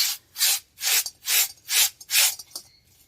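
Clay pot being scrubbed clean of dirt and sand, with a raspy rubbing stroke repeated about six times in an even back-and-forth rhythm, close and fairly loud.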